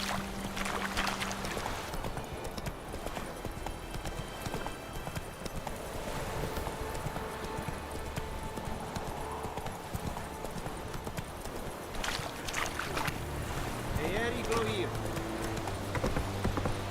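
Roach the horse's hooves clip-clop steadily at a gallop through the whole stretch in The Witcher 3, a continuous rhythmic pounding mixed with game music and ambience, with occasional speech over it.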